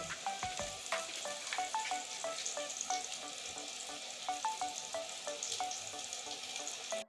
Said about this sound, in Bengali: দেখুন আলুটা বেশি ভাজবো না